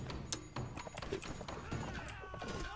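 Horse hooves clip-clopping in a video game, a run of quiet irregular clattering footfalls mixed with other faint game noises.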